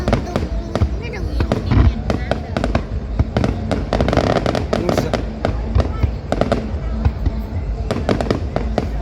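A fireworks display for the 190th anniversary of Thanh Son district in Phu Tho produces rapid, loud, overlapping bursts and crackles without pause, with faint crowd voices underneath.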